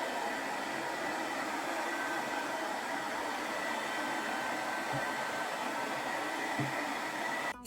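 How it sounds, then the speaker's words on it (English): Hair dryer blowing steadily to dry coats of white acrylic paint on a plant pot, a constant close whooshing roar with no break until it clicks off at the very end. "I even ended up blow drying each coat just to get it done faster"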